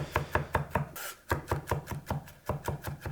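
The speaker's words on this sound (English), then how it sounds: "You can hear the knife going through the salt, which is also crushing the garlic." A knife rocks rapidly over garlic and salt on a board, crushing it in a quick, even run of crunchy strokes with one brief pause.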